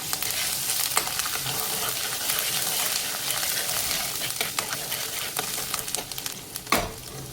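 Grated ginger and garlic fry in hot oil for street-style veg Hakka noodles, giving a loud, continuous crackling sizzle with occasional brief clatters from stirring and no voices.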